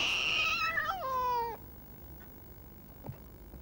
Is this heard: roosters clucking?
no